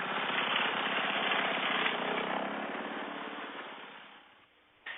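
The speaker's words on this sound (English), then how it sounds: "With the noise from the lawnmower, you can't hear a bee that is threatening you" Lawnmower engine running near beehives, a steady loud droning rattle that holds for several seconds, then fades away before a brief restart of noise at the very end, with no talking.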